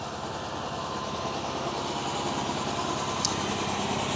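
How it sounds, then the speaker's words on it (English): An air compressor runs near a trailer being inspected, a steady mechanical engine-like drone with faint rattling vibration, continuous and moderately loud. "So you have to excuse the noise of the air compressor."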